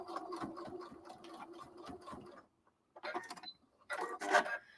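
A sewing machine stitching fabric for a tabard, running in steady rapid bursts back and forth with brief pauses between passes, close and alone.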